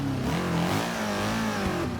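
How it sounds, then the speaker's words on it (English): A 1934 Alfa Romeo P3 race car in the Forza 6 video game revving its engine, a loud, steady mid-pitched roar with rising and falling harmonics and a brief pop near the end. "Oh, there was just a little backfire."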